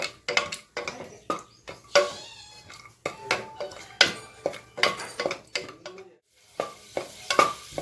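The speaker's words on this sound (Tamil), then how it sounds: "இப்போ தேவையான அளவு எண்ணெயை ஊற்றி இதில் முந்திரி பருப்பை போட்டு வறுத்து எடுத்துக்குவோம்." Cashews fry in sizzling oil in a metal pot while a spoon stirs and scrapes in repeated bursts, with metal clinks against the pot, close up.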